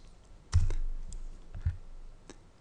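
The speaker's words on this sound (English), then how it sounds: "So I'm typing that I want to fly to Paris." Keystrokes on a computer keyboard while entering a chatbot query, a short burst of clicks and a couple of isolated taps over about two seconds, close and fairly quiet.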